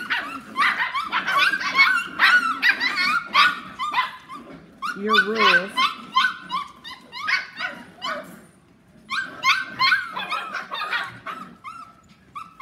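A dog barks, yips and whimpers during a no-bark training correction, with repeated loud outbursts close by and someone talking over and between them.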